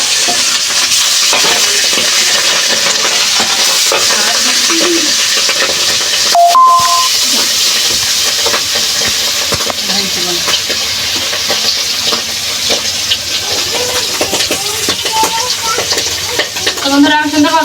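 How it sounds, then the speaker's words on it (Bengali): Pangas fish pieces frying in hot oil under a cover, a loud, continuous dense sizzle and spatter throughout, with brief tonal clinks and faint background sounds. "আমি সুন্দরভাবে মাছগুলো ভাজি নিই লাল লাল করে"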